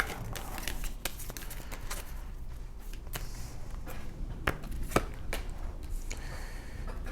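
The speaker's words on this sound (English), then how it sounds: "Let's pull this last oracle card here" Oracle cards being shuffled and one pulled from the deck, a run of soft papery riffles and flicks with a few sharper snaps, close and quiet with no talking.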